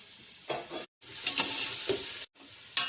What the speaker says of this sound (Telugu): దాని తర్వాత ఆనియన్స్ వేసేసుకోవాలి.